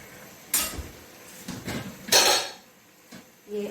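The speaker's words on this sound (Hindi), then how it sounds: "प्रेशर कुकर को मैं बंद करती हूँ।" Metallic clanks and clatter of a pressure cooker lid being handled and shut, a few sharp knocks with brief pauses between them, close by.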